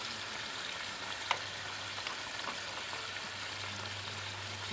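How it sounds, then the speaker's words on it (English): Continuous crackling sizzle of food for a full English breakfast frying in a pan, steady and close, with a soft clink partway through. "That just needs pan frying on either side till it's done"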